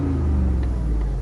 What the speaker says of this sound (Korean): 스포츠 배기 시스템 하면 이런 엔진 소리가 나오고